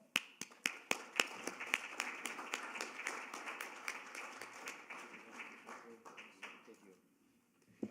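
Audience applause at an emergency preparedness town hall forum, a crowd clapping in sharp, fairly sparse claps that thin out and fade away toward the end.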